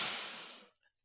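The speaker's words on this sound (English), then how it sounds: "let's take a big deep breath. Deep breath in" One deep breath drawn in through the nose and mouth, close and soft, fading out within about a second.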